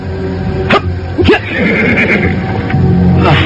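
A horse neighs loudly and close by in a stretch of riding in historical drama, its whinnies rising in sharp bursts over a steady background with faint hoof-like movement.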